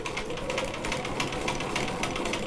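A hand-cranked sewing machine stitches over a pin while quilting a hexagon block, giving a steady, close, even mechanical whir that runs without a break and with no talk.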